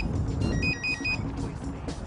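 A mobile phone rings with a short run of repeated bright electronic tones, fairly close but modest in level over a murky room background with no clear talk.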